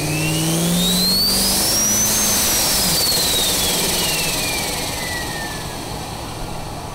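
A turbocharged LS-powered Chevrolet Caprice wagon accelerates hard under boost, its engine roaring loud and close while a high turbo whine climbs in pitch, peaks, then falls away as the revs drop.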